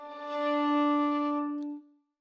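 A violin note bowed with very little bow weight gives a softer, thinner sustained pitch that swells gently, holds for under two seconds, then fades out, played alone.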